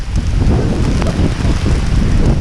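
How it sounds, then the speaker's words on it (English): Heavy monsoon rain pours down in Malaysia as a loud, steady roar close to the microphone. Low rumbles of thunder mix into the downpour, and wind buffets the mic. There are no voices. "That's monsoon alright. Holy lightning, thunder."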